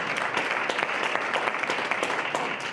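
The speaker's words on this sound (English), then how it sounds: "Can we give them a round of applause?" An audience at a panel discussion claps in a steady, even burst of applause lasting the whole stretch, moderately loud with no pauses.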